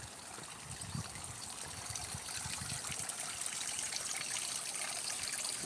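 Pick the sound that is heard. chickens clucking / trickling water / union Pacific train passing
trickling water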